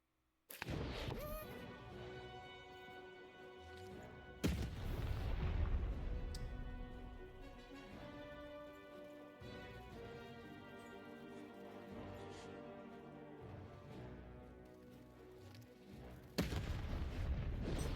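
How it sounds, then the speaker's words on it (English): Cannon blasts from the video game Lost in Random, a few heavy booms spaced apart among sustained tonal game music, each a sharp loud hit followed by a ringing decay. "One must shoot the button attached to it in order to fire the cannon."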